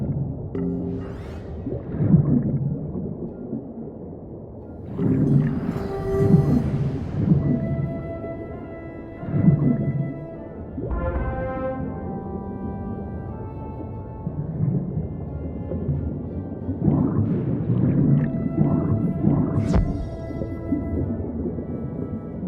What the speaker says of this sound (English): This must be the storm chamber.